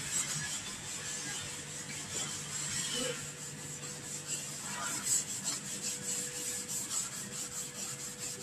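Steady rasping and rubbing of sanding work, continuous and moderately close, with faint rhythmic scraping strokes and no talking.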